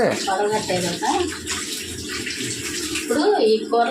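Running water splashes steadily while something is washed in a home kitchen during cooking, with people talking over the flowing sound throughout.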